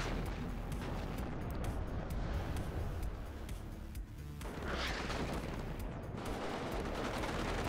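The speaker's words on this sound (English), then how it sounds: "Artillery coming in on this building." Artillery fire pounding a building in WARNO, a dense, continuous roar of blasts and rumbling impacts at close range, loud and unbroken throughout.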